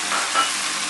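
Chicken sizzles and spits in a hot pan as it is stirred, a short, close, bright frying hiss that swells briefly.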